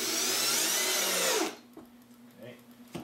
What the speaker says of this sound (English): now I can drill the remaining four holes